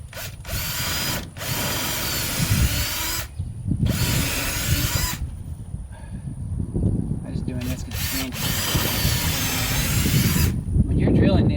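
A power drill drives 1.5-inch screws through a wooden greenhouse post, running in several bursts of whirring with short pauses between them, close and fairly loud throughout.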